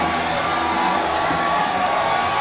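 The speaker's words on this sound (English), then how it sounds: "And the crowd's going crazy." A wrestling arena crowd at a main event roars and cheers wildly, a dense, continuous wall of shouting and whooping that stays loud throughout with no pause.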